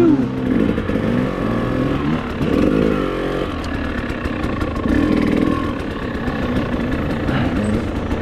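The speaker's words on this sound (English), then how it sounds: "We've got Bay coming through the rock garden" A hard enduro motorcycle works through a rock garden on a creek course. The engine note is continuous and loud, with uneven revving and labouring bursts, and nobody speaks over it.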